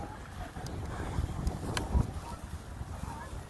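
Gusty outdoor wind buffeting a microphone in a park near water, a steady low rumble with stronger thumps and no talking.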